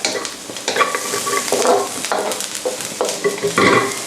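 Onions soften in a pan for a Louisiana-style gumbo, sizzling loudly and close while a utensil stirs and scrapes in repeated strokes, with no voices.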